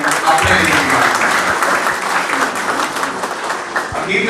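Audience applause at a film festival in Bathinda, a dense, steady wash of clapping from a large crowd that holds for the whole stretch at strong level.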